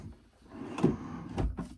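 A pull-out cabinet in a Holiday Rambler 44B RV interior slides open with soft rolling and a couple of low thumps, fairly quiet and close, no talk.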